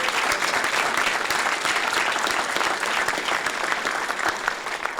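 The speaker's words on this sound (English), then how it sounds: "Can we please give them a round of applause?" Outdoor ceremony crowd applauding at the unveiling of a Harriet Tubman statue at a university, a sustained, evenly textured wash of many hands clapping at moderate loudness throughout.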